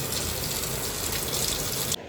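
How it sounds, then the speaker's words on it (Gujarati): Heavy rain pouring outside a house, a thick, steady rush of water lasting about two seconds before dropping off sharply, with nobody speaking. "વરસાદ શરૂ થઈ ગયો જોરદાર."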